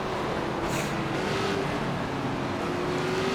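NASCAR stock car racing engines from the NASCAR 25 video game, heard as a steady, loud engine drone with a slowly rising whine that holds through the whole stretch, with no break.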